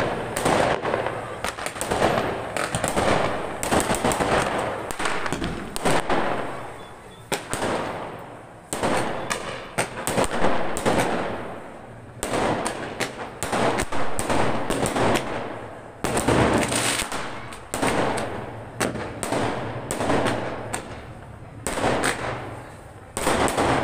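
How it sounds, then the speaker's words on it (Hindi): Firecrackers bursting during an Indian wedding procession, loud rapid strings of cracking pops in dense volleys with brief pauses, continuing for many seconds outdoors. "फ्रेंड अभी देखे बम फटना शुरू हो चुके हैं"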